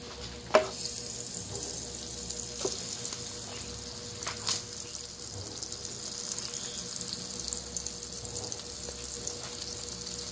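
Bread fries in butter in a hot pan, giving a steady soft sizzle with a few sharper clinks and taps, no voices.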